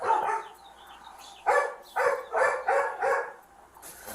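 Several dogs bark in a quick run of loud, close woofs, a few spaced single barks followed by a tight burst of four or five, with no one talking.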